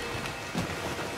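Video game thunderstorm at sea in Skull and Bones: a dense, steady wash of heavy rain at moderate level, with a brief low rumble of thunder partway through.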